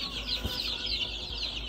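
Soft clucking of chickens, fairly faint against a steady low hum from egg incubators and hatchers, with no one talking.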